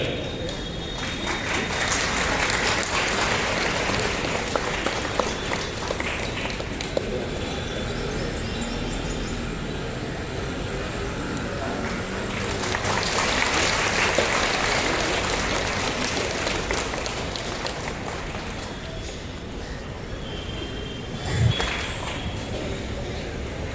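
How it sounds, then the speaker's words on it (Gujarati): Sustained applause from an audience at a school Republic Day celebration, a dense continuous patter of many hands for over twenty seconds, swelling slightly midway and ending with a brief louder thump. "જોરદાર તાળીઓની ગળગડાટ ચાલુ રહેવું જોઈએ."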